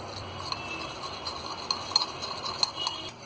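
A spoon stirring and mixing rice with colours in a bowl, producing scattered light clinks and scrapes against the dish at an irregular pace, close and fairly quiet with no talking.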